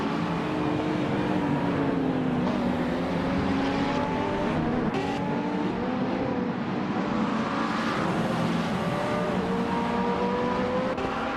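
Several race cars screaming along in a racing video game, their engines wailing and shifting pitch as they run neck and neck, a steady loud roar with overlapping revving tones.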